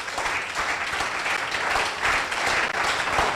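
A crowd at an outdoor broadcast event claps steadily and fairly loudly, a continuous wash of hand-claps with no pause throughout.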